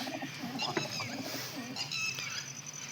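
Domestic flying pigeons coo softly in a few low, throaty bursts, fairly close but quiet, over a hissing background.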